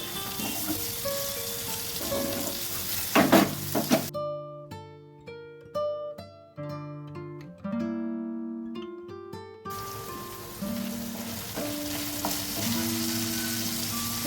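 Raw banana and green beans frying in oil in a pan, a steady sizzle running throughout, broken midway by a stretch of louder melodic music tones that the frying returns under.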